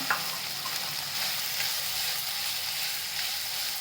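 Chopped tomato sautéing in hot oil with ginger-garlic paste for chicken masala pav, giving a steady, close sizzle with a brief sharper crackle at the start and no voices.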